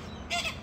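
A short burst of harsh, raspy crow caws rises briefly above a quiet room tone before fading.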